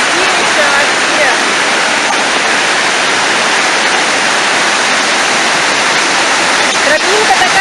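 Clear water rushes over river rapids near the Mezmay waterfall as a loud, steady, close roar of broadband noise, unbroken throughout.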